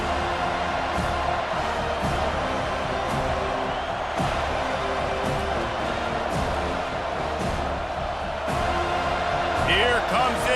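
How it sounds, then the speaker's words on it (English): Stadium home crowd in College Football 25 roars steadily as the defense tries to get off the field on third down, a dense sustained wash of cheering under continuous play-by-play commentary. "Here comes this home crowd as the defense tries to get off the field on third down."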